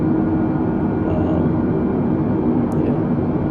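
An Airbus A320neo on approach to land in a flight simulator game heading into San Diego gives a steady, loud, broadband engine and airflow roar with no change in level throughout.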